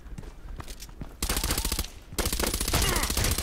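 Suppressed MP5SD6 submachine gun fire in a shooter game, rapid spraying bursts of close, evenly spaced shots that grow louder and denser, with no talk over them.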